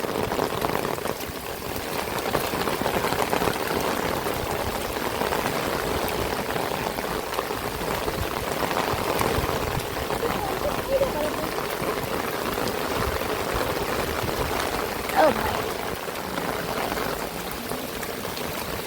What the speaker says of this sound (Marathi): पुराच्या पाण्यात चालताना आम्ही